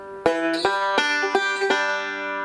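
Several bright plucked banjo notes, the open 3rd and 1st strings pinched together, ring out in a quick sequence, twangy and close, each attack sharp before fading.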